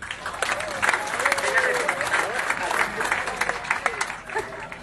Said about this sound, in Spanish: Y démosle un aplauso